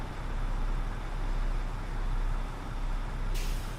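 Air brakes on a Peterbilt 389 heavy-haul truck in American Truck Simulator, a loud steady hiss of released air over the low engine rumble, ending in a sharp bright burst of air near the end.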